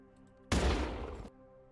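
A sudden, loud burst of gunfire in a film prisoner execution scene, roughly three-quarters of a second of dense rapid shots, then it cuts off sharply, with quiet tones before and after.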